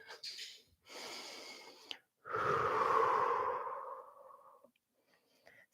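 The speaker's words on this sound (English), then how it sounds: "Just breathe." Slow, deep breaths during a high-energy yoga flow: two shorter exhales, then one long, loud, airy breath out, all close and with no talking.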